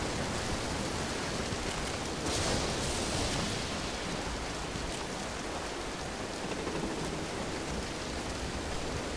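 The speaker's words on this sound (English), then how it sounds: "The storm gonna tear this boat apart!" Heavy storm rain pours steadily onto a boat in the video game Dead Island Riptide, a dense, loud wash of noise that barely changes over several seconds, with no talking.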